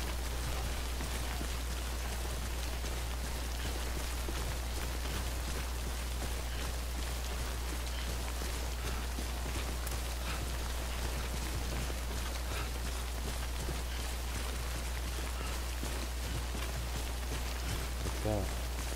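Steady rain in the video game Death Stranding patters densely and evenly throughout over a constant low hum, with no pauses.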